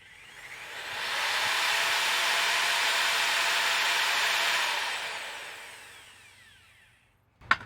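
An electric saw powered by a DaranEner NEO2000 LiFePO4 portable power station spins up gradually, holds a steady high whine, then winds down to silence, followed by a single sharp click at the end.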